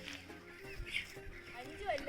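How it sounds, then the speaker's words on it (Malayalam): Young chicks on a chicken farm cheep and cluck in short bursts at close range, with people talking over the birds. "ഇത് കുഞ്ഞു കോഴികൾ"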